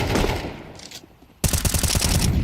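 MAC-10 spraying in a Counter-Strike match: a loud close burst of rapid automatic gunfire, preceded by quieter ambient game noise and a brief lull, then a sustained rattle of shots to the end.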